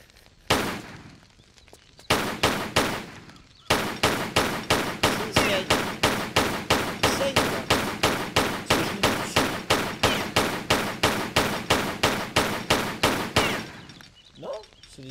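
Rapid gunfire with bullet ricochets in Tomb Raider 3, a loud, steady run of evenly spaced shots lasting several seconds after a couple of opening blasts, then a brief pause.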